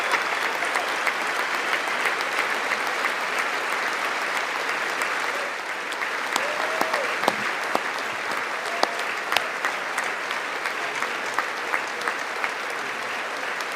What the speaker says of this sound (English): these people, it's like they just get together to clap for each other